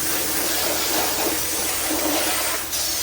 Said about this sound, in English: You probably can't hear me over the water, huh?